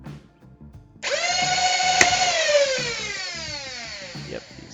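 A Worker Phoenix foam dart blaster spins up with a rising flywheel whine that holds steady, then fires with a sharp snap before winding down, loud and close with no talk.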